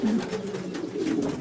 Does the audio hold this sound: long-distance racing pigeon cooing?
yes